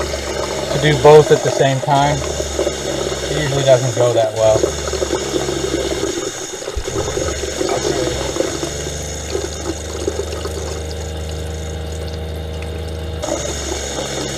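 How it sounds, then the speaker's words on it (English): A steady RV fresh water pump hums continuously with liquid sloshing, while a person speaks briefly over it. "You can hear the pump works for that too"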